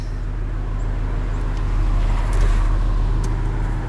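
A 2019 Aston Martin DB11 Volante convertible driving with the top down, a steady low engine and road rumble with wind noise, holding an even level for a few seconds.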